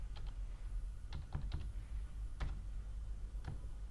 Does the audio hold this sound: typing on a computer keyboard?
yes